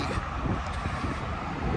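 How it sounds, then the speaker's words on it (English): Wind buffets the microphone with low, rumbling gusts, steady and close, over faint background traffic, outdoors at an electric-car charging station in Texas. "Sorry, it's a little windy."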